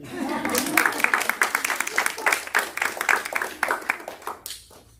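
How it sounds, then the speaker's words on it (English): Audience clapping after a talk on Christian perspectives on mental health, a short burst of irregular claps of moderate loudness that rises and then thins out over a few seconds, with a voice speaking over it. "You may clap for me now"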